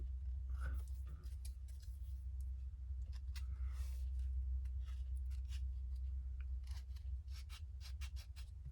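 Quiet, crisp little snips and scrapes of a blade cutting bare metal foil laid over a model car body, brief scattered ticks over a low steady hum.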